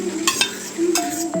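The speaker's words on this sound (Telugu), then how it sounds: "ఇప్పుడు ఈ ప్యాన్ మీద బటర్ వేసుకుని వేడి చేసుకుంటాం. ఇప్పుడు దీంట్లో కొద్దిగా వెల్లుల్లి వేయాలి." Garlic fries in melted butter in a pan, a soft steady sizzle close by with a couple of brief stirring scrapes.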